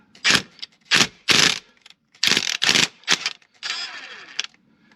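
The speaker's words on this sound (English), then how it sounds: "with the old impact wrench I get it on one of the other bolts" An old impact wrench loosens a bolt in a series of short, loud hammering bursts separated by pauses, close by, with a longer final burst as the bolt spins free.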